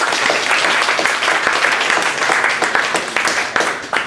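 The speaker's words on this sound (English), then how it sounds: "Awesome little round of applause." Audience at a data visualization meetup giving a round of applause, dense close clapping with a few sharper individual claps standing out as it tapers near the end.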